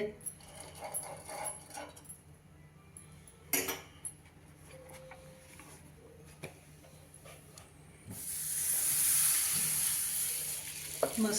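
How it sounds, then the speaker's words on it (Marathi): Thalipeeth, a sorghum and coriander-leaf flatbread, sizzles in oil on a hot griddle, a steady frying hiss that swells louder near the end after scattered clinks and handling sounds, with faint background noise. "तव्यावर थोडंसं तेल घालते"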